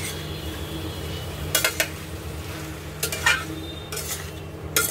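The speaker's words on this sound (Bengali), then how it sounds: "কষানো চলছে।" Spices and a few cloves of raw garlic sauté in a pan with a steady low sizzle, broken by several short scraping stirs of a spoon against the metal, close by and with no talking.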